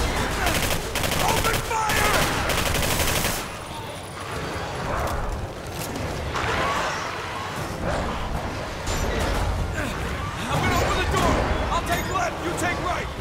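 Rapid bursts of automatic gunfire and single shots crack loudly through a battle in the video game Singularity, with shouted voices over the firing and brief lulls between volleys.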